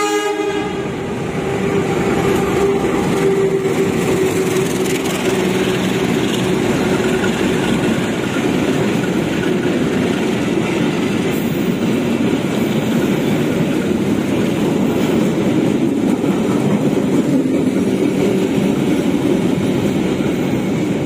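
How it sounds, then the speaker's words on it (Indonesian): A Mataram passenger train bound for Pasar Senen from Solo Balapan runs past on track 4, a loud, steady rolling rumble of wagons on the rails that fills the whole stretch without letting up. "Barusan kereta api Mataram tujuan Pasar Senen"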